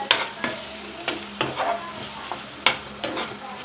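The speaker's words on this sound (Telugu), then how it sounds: "ఇప్పుడు ఇదే ఆయిల్లో మిక్సీ చేసి పెట్టిన మసాలా పేస్ట్ వేసేద్దాం దీనిలోని కరివేపాకు పచ్చిమిర్చి చీలికలు వేసి వేయించుకోవాలి" Ground masala paste frying in oil with curry leaves and slit green chillies for a capsicum gravy curry, a steady close sizzle punctuated by regular sharp spatula scrapes.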